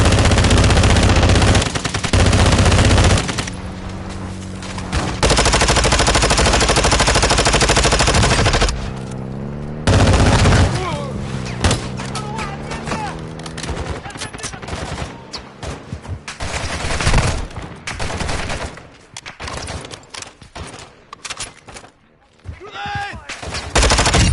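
Heavy gunfire fills a Call of Duty DMZ match, with dense loud bursts and rapid automatic fire in close clusters broken by short gaps, then scattered shots toward the end.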